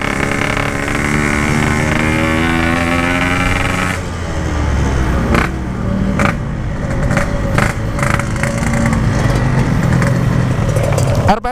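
A Yamaha RX King two-stroke motorcycle engine revs loud and close, with a steady high-pitched whine broken by sharp throttle blips and crackles in the second half, heard alone without talk.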